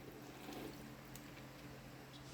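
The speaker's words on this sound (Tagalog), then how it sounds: "Lalagyan natin ng tubig" Water poured into a cooking pot holding pork, vinegar and kamias for sinaing na tulingan, a steady, continuous watery wash at moderate level with no speech.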